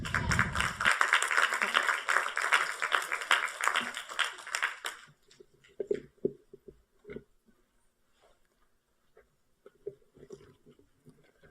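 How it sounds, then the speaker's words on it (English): Audience applause for President Mitchell at a plenary session, a dense burst of clapping for about five seconds that fades out, leaving scattered faint knocks and rustles in a quiet hall. "We should applaud President Mitchell for being there."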